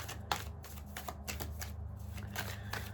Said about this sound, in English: let me just shuffle a bit and get these energy flowing here